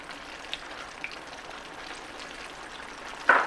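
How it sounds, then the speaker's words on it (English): Oil sizzles and bubbles steadily around deep-frying chicken strips with soft crackling pops, ending in a louder burst of spattering sizzle; no talking. "And I'm deep frying them."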